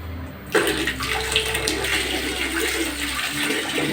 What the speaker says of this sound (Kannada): ಇವು ಗರಂ ನೀರು ಬರ್ತಾವೆ ಈಗ.